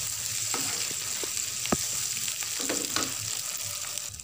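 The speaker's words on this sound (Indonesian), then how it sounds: "Kita aduk sebentar." Tomato chili paste frying and sizzling in a pan while being stirred, a steady hiss with scattered scraping clicks from the stirring, close and fairly soft, with no talking.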